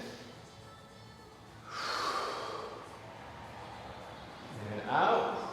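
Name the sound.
person breathing in deeply during a neck stretch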